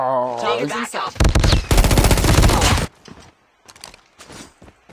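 An AK47 firing in the mobile shooter Call of Duty Mobile: loud, close bursts of rapid automatic gunfire lasting a couple of seconds. A voice comes just before, and fainter scattered shots and movement follow.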